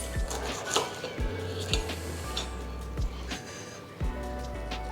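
A knife clinks and scrapes against a plate while cutting a steak pie in half, with several sharp taps and short scraping strokes over a low steady hum, close by and fairly quiet.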